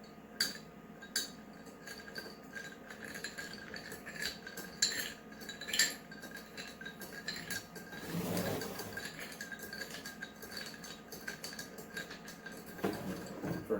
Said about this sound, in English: Add to our glass and stir.